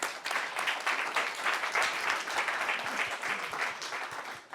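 An audience at a Bavarian HealthTech startup pitch event claps steadily and warmly, with dense, continuous applause that holds at an even level for several seconds.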